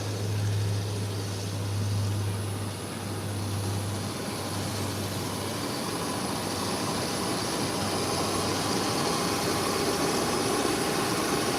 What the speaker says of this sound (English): There's also another Beechcraft that is taxiing out